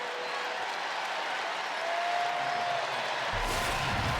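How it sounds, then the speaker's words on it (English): Crowd applause in a basketball arena during an NCAA men's tournament game between Duke and Mount St. Mary's, a broad, distant wash of clapping and crowd noise that swells slightly toward the end. "Gumba gets a nice round of applause."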